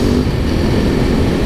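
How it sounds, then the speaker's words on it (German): KTM EXC 250 dirt bike with its stock exhaust, revving while standing still: a brief, loud, rough engine drone that holds steady at close range. "Das ist eine KTM EXC 250, Alter, crazy, Mann."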